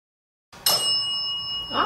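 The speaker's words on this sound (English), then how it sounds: "can you ring the bell?" A bell at an elementary school rings once after a moment of silence, a bright sustained metallic ding that decays slowly, with a faint touch near the end.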